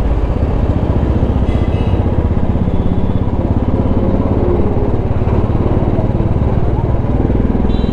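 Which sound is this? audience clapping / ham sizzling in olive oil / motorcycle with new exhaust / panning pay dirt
motorcycle with new exhaust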